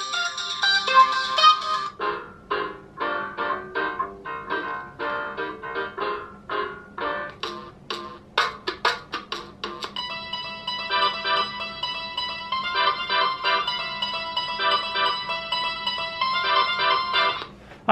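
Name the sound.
preloaded song playing from the DIVER robot's speaker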